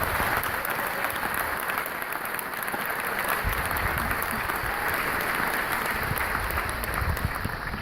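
Sustained audience applause at an international conference in Angola for Dr. Augusto Cury, a dense, steady wash of clapping from a large crowd held at even loudness throughout.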